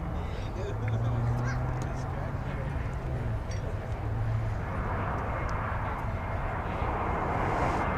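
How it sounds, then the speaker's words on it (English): An Airbus A321 arriving from El Paso at DFW Airport, its jet engines a constant broad roar throughout, with a voice talking over it. "An Airbus A321 coming in now from El Paso, Texas."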